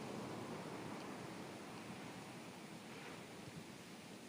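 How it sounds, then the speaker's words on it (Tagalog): Big storm-driven ocean waves break at high tide along the seashore in Santa Ana, Cagayan, a dense, continuous roar of surf that stays steady and close with no voices over it. "nakakatakot pa rin yung mga dambuhalang alon sa tabing dagat"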